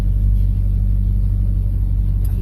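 Chevrolet S10 pickup with a swapped Oldsmobile 350 Rocket V8 and manual steering, driving a slow lap around a building: a loud, steady low engine rumble heard up close, without any clear revving.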